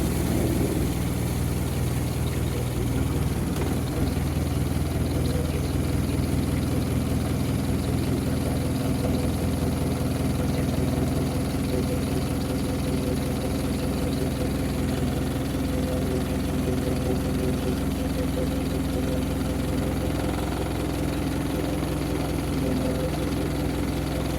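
Engine of a 1953 Lyman Islander boat idling steadily, a loud continuous low rumble with vibration throughout while its cooling system is flushed of antifreeze.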